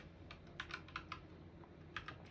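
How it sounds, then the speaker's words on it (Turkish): Keys pressed one after another on a computer keyboard with function and number keys, a handful of separate, crisp clicks in an uneven rhythm, close and quiet. "Şöyle bütün tuşlara basalım."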